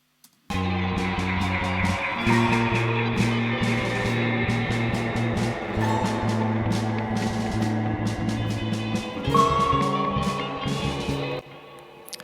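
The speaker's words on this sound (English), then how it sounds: "So let's hear the Leslie piano in the track now." Piano chords through a Leslie rotating speaker play continuously in a full mix, with a swirling, wavering rotary shimmer, a full layered sound with repeated rhythmic accents, ending abruptly.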